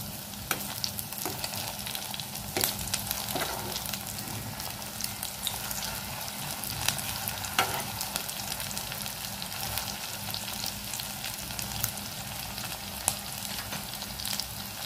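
Aloo paneer koftas fry in hot oil over a medium flame, giving a steady, close sizzle with crackling pops and occasional sharper spits throughout, with no voices.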